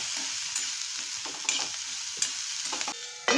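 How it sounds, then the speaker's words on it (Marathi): Green chillies and salt being stirred in a hot frying pan, a spoon scraping the pan in several distinct strokes over a steady, close sizzle of frying. "थोडंसं मीठ ॲड करून आपल्याला हे ढवळायचं व्यवस्थित"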